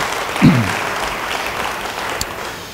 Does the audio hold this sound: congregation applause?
yes